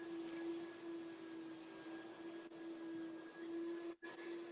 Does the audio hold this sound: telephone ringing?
no